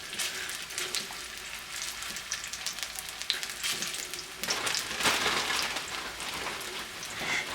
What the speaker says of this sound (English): I'm going to get them in the oil because I want a nice color crust on there.